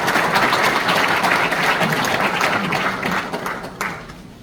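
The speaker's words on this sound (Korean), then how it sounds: "큰 박수로 맞아주시기 바랍니다." Applause from a church congregation at a dedication service, a dense, loud wash of many hands clapping that fades gradually toward the end.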